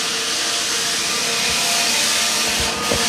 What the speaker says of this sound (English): we got the man right there on the sander. Sanding things down